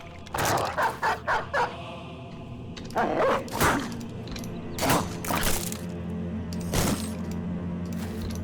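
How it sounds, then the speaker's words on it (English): Dogs from an undead spawn in a strategy video game bark and yip in rapid bursts, mixed with combat hits and crashing impacts, repeated throughout at moderate volume. "Let's get these dogs down."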